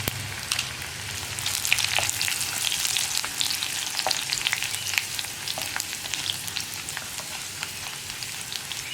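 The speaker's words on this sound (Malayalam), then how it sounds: "വെളുത്തുള്ളി ഒന്ന് ചൂടായി തുടങ്ങുമ്പോൾ തന്നെ നമ്മുടെ വറ്റൽമുളക് 2 ചേർത്ത് കൊടുക്കാം." Garlic and dried red chilies fry in hot oil for a Kerala okra stir-fry, giving a dense, steady crackling sizzle up close that keeps going the whole time with no voices.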